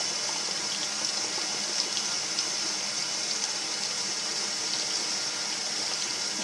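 Muddy water drains steadily from a steam boiler in a continuous, even rushing gush with no voices.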